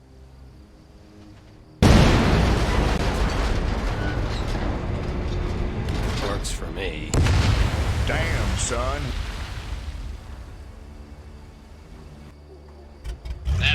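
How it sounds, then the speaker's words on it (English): A train explodes in the World War II shooter Medal of Honor. A sudden loud blast gives way to a long rumbling roar with crackling debris and a second burst, while players talk over it. "That explosion got the attention of all the German patrols in the area."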